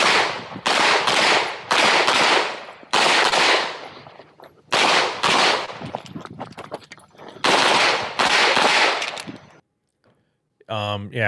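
Pistols fire rapidly on an Open Division USPSA match stage at an outdoor gun club. Loud, close strings of shots come in several bursts separated by short pauses, and a brief warbling electronic tone sounds at the end.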